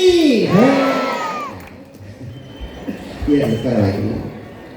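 Crowd at a Hindu religious discourse on the Devi Purana responds with rising cheers and chanted acclamation in two bursts, loud and close, with voices mingled throughout.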